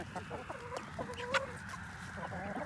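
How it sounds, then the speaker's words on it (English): Backyard chickens clucking softly after a feed, with scattered short calls close by and a brief louder squawk midway, over steady low background noise. "Chickens are finished up eating."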